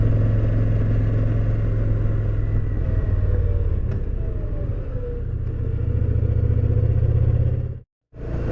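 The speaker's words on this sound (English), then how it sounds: "I can let off the throttle right now and you'd probably hear the driveline" Victory Vision touring motorcycle coasting off throttle, a steady low engine rumble with faint driveline whine, easing slightly before a brief dropout near the end.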